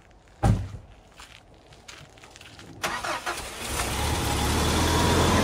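A four-wheeler ATV engine cranking and catching outdoors in winter, with a sharp knock, a few intermittent bursts, then a rising, steadily building engine roar, close by and without talk.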